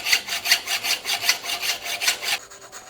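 Hand saw cutting down a bicycle fork steerer tube during an Enve Melee bike build, about ten even rasping back-and-forth strokes in a steady rhythm, close and clear, stopping just before the end.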